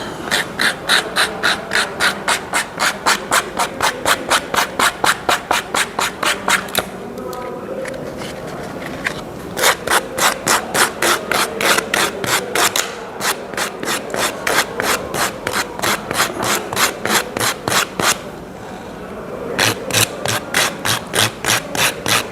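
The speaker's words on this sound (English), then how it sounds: "just take the sandpaper and keep rotating the cue while you're doing that" Sandpaper rubbed against a snooker cue tip as the cue is rotated, producing a loud, close, rapid rasping rhythm of scratchy strokes that pauses briefly twice before resuming.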